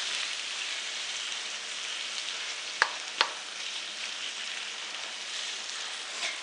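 Shrimp sizzle in a pan with garlic and onions, a soft, even hiss close by with two sharp clacks partway through, fairly quiet overall and with no voices.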